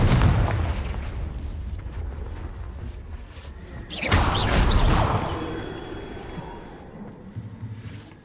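A Confringo blasting spell is cast in Hogwarts Legacy, played on PC, giving a loud booming burst midway that rings out over ongoing game rumble and background clatter, with no talk.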